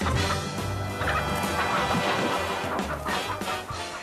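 Fowl in an organic henhouse, a rooster among laying hens, fill the air with a dense, steady chorus of clucks and calls, loud and close throughout with no talking.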